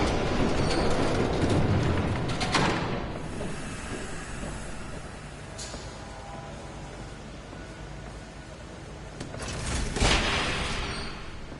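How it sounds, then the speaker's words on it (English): A train rumbles past in a Batman Telltale Series game scene, a loud sustained roar with hissing bursts and rattling surges rising and falling over several seconds. "There's a train coming. Take cover."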